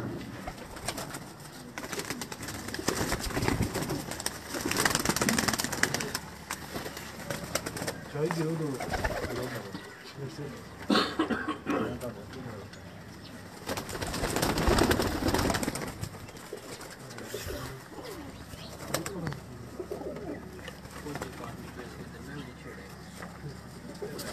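Several pigeons coo in soft, repeated, throaty murmurs nearby, layered under people talking throughout.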